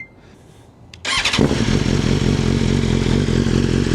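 A 2025 BMW M1000XR motorcycle with a Stage 2 flash cranks over after a moment of quiet, catches with a sharp burst, then settles into a loud, steady, rumbling idle close by.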